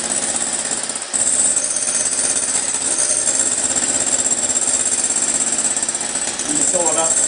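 Electric mixer whisking egg whites in a bowl, a loud, dense continuous whirring buzz held throughout, close up, with a short dip near the start.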